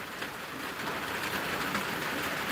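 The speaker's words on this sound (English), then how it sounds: "As you see, it's raining here" Steady rain falls outdoors, a dense, even hiss of drops on surfaces that holds at a constant level throughout with no voices.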